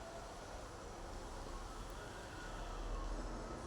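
A sewing machine stitches piping along the edge of a blouse neck, giving a continuous, fairly faint mechanical whirr and rattle that runs steadily without pause.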